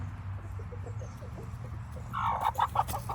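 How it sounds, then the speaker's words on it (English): A Plymouth Rock hen clucks softly in a series of short, low calls, building to a few louder clucks near the end, heard close by with no talking. "That's my only Plymouth Rock hen right there."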